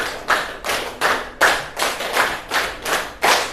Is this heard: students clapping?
yes